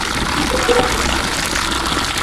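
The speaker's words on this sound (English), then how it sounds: "Let's fill the water in this bucket." Water from a tap gushes steadily into a bucket being filled for hand-washing laundry, a loud, close, unbroken rushing pour with no talk.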